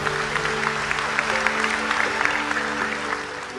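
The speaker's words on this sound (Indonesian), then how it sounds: "Tepuk tangan untuk beliau, nggak apa-apa" A religious lecture audience in Indonesia applauds its speaker with dense, sustained clapping that stays loud and even, while a low background hum runs beneath it.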